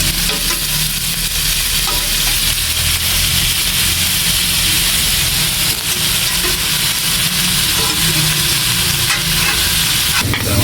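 Boiled chicken pieces sautéing in a pan, a loud, steady sizzle with repeated stirring and scraping throughout, close up and uninterrupted.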